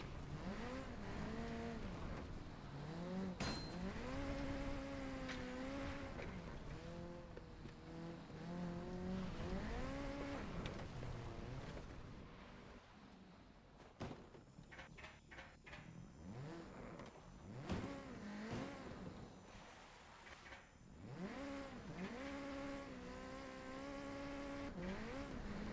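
A Mitsubishi Lancer Evo in a racing video game revs up and down through its gears, with repeated rising engine whines and a few tire squeals. The engine stays loud and close throughout.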